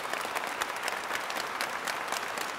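Audience at a parish children's psalm-singing contest in a church applauds, a steady, even patter of many hands clapping at moderate distance, with no talk.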